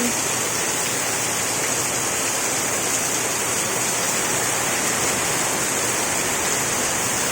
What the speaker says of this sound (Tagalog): Yan, ulan na naman guys. Lakas ng ulan.